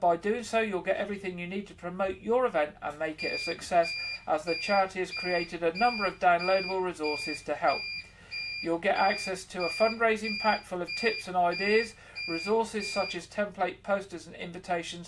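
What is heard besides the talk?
beeping of an emergency battery backup doing a test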